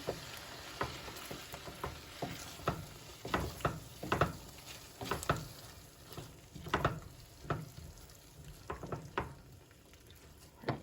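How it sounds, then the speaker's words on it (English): Food frying in a pan is stirred, giving a soft continuous sizzle broken by repeated scraping and tapping strokes in an uneven rhythm, fairly quiet and with no talk. "Give it a good stir."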